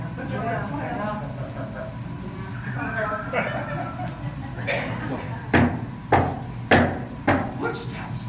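Footsteps from somewhere in a house, a run of four or five heavy, evenly spaced thuds toward the end, preceded by quieter voices talking.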